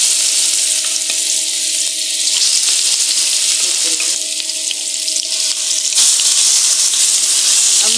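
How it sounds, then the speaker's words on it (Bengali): Pieces of mrigal fish fry lightly in hot oil in a frying pan, giving a loud, steady, close crackling sizzle that carries on unbroken with no voices. "মাছগুলোকে আমি প্রথমে ভেজে নেব, একটু হালকা ভেজে নেব।"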